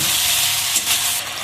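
Potatoes sizzle and fry in hot oil with turmeric and salt for a thin fish curry, a steady close crackle with a few stirring scrapes partway through, no voices.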